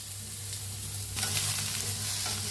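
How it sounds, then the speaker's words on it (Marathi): Spices are stirred and dry-roasted in a kadhai, with a steady close sizzle and crackle under soft scraping strokes that grow slightly louder partway through. "दोन मिनिट हलवून भाजूया"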